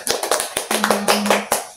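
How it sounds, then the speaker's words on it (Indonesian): A small group claps during a health education session on earthquake safety, a brief burst of uneven, close hand claps with a faint hum beneath. "Baik, tepuk tangan terlebih dahulu."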